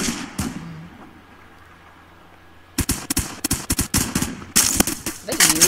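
Rapid bursts of G36 rifle fire ring out in the video game Phantom Forces, sharp repeated cracks in quick strings after a quiet stretch with a couple of isolated shots early on; a voice talks over the shooting.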